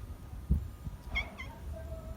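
Two short meows from a yellow cat drinking water below, close by, the second following quickly after the first, over low background rumble.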